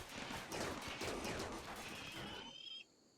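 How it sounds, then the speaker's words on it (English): Dense gunfire rattles through a kill box in the video game Rimworld, a continuous loud burst of overlapping shots that cuts off sharply near the end, leaving a faint thin tone with no talking. "you get shredded by these bullets"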